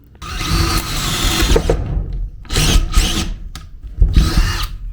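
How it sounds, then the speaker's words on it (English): A power drill bores through wood for a small cabin's wiring in three loud bursts, whining and grinding, with short quiet pauses between them. "let's drill the second hole now"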